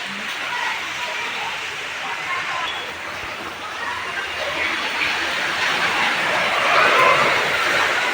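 Heavy rain pouring outside a ground-floor flat in a seven-storey building beside a road in Surat, a dense, steady, loud hiss that swells slightly near the end, with a voice speaking over it.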